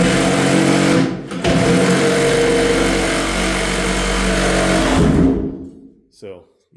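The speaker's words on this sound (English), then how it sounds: "But reciprocating saw makes quick work of that." Reciprocating saw cutting into a large wooden basement beam, a loud continuous buzzing drone with a short dip, then cutting off abruptly before a brief quieter burst.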